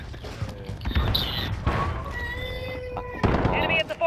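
Explosions in the video game Call of Duty: Modern Warfare: a few muffled, booming blasts spaced over a few seconds amid steady in-game background noise.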